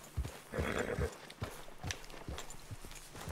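Horse hooves clopping in the Red Dead Redemption 2 video game, a few distinct thuds in an uneven walking rhythm, fairly close, with faint background game ambience.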